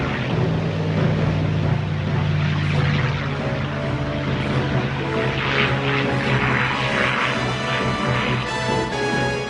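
Japanese carrier aircraft in the surprise attack on Pearl Harbor, Hawaii, give a loud, steady propeller-engine drone that holds throughout with no voices.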